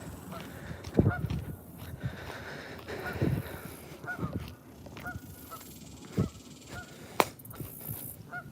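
Geese honking behind a fishing spot by the water, with irregular calls standing out every second or so over a busy outdoor background, fairly close and moderately loud.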